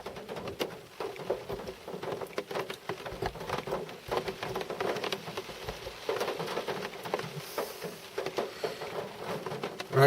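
Rain patters steadily at an outdoor carp-fishing spot, a dense, even hiss of drops with scattered louder taps lasting throughout at moderate level, with no talking.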